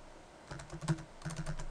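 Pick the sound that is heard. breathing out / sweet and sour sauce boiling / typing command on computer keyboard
typing command on computer keyboard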